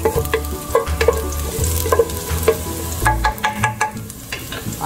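Garlic frying in a pan for chicken tinga, a loud close sizzle broken by repeated clattering stirs and scrapes of a utensil against the pan.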